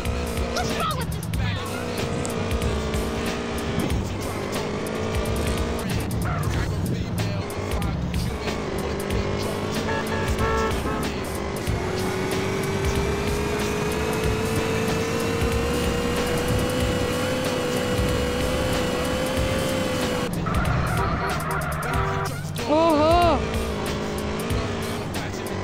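Car engine and tyre noise from driving in the video game GTA San Andreas, a steady droning motor that runs throughout with brief skids, while people talk over it.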